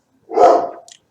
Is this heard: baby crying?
no